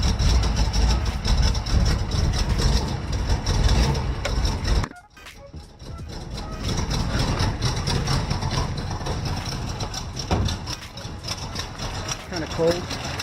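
A 1966 Ford Mustang GT engine with a hole in the exhaust idles steadily with a low, rough rumble, briefly cutting out for a moment before carrying on.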